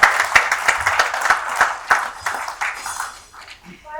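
Scattered clapping from a small audience at a panel session, a few loud close claps over a softer spread of hands, tapering off toward the end.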